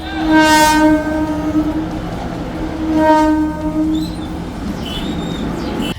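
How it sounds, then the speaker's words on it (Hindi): A train slowing down on a railway track that runs through a crowded goat market sounds its horn. Two long, loud, close tonal blasts are separated by a short pause over rumbling track noise. "ट्रेन का ड्राइवर भी यहाँ की हकीकत समझता है, इसलिए रफ्तार कम करता है और दूर से ही हॉर्न देना शुरू कर देता है।"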